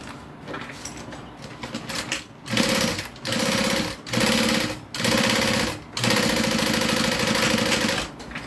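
A sewing machine top-stitches a row just beneath a bag zipper, running in several steady bursts of rapid mechanical whirring separated by short pauses, close and loud.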